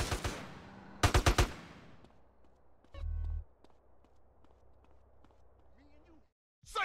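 Gunfire in the video game GTA San Andreas, with a rapid burst of four or five sharp shots followed by scattered lighter game effects and a low rumble, loud and near.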